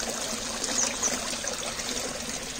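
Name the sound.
water trickling from aquaponics grow bed into tank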